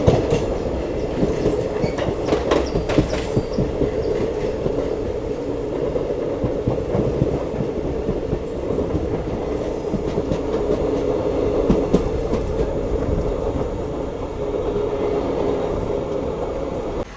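The Pinakini superfast express from Vijayawada to Chennai Central runs along the rails, a loud, steady interior rumble with rhythmic clickety-clack of wheels over joints and occasional metallic squeals.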